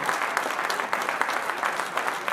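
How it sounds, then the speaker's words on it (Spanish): An audience at an opera-and-film lecture applauds a conductor, many hands clapping in a steady, full patter with slight pulsing. "les pido un aplauso para la maestra Julia Mancilla"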